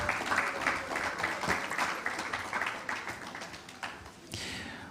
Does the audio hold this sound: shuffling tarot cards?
no